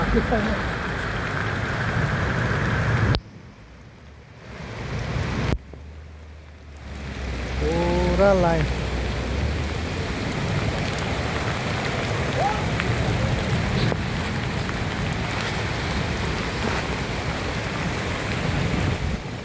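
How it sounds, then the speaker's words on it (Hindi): Steady heavy rain in Tripura, India hisses throughout, briefly cut off twice, with a short spoken phrase and a faint whistling call partway through. "पूरा बारिश ने हमको भिगा दिया।"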